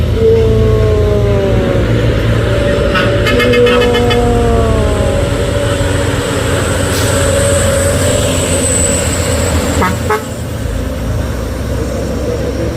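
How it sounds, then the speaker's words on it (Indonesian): Heavy road traffic roars steadily as a large trailer truck overtakes close by, engine rumble and tire noise rising, with a brief horn and rattling clatter mid-way. "Wah, trailer ikut nyalip."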